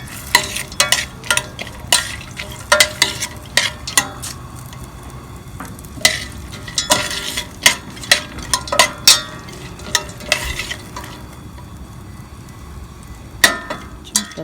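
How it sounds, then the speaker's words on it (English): Steady sizzling of dry fruits frying in butter in a pan, with frequent clicks and scrapes of stirring throughout, close up. "Let the butter heat in the pan, and I'm going to put all these dry fruits."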